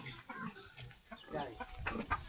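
A brooding hen sitting on her eggs gives soft, low clucks at close range, broken into short bursts, while people talk quietly nearby.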